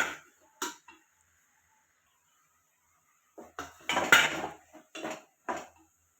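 Metal clatter of a lid set on a cooking pot of red spinach, a brief clink near the start followed by a cluster of louder clanks and rattles, close and without talk.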